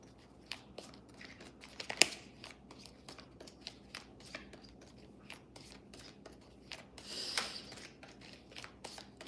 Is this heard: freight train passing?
no